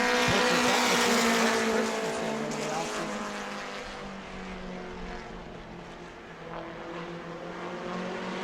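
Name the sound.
race cars racing on track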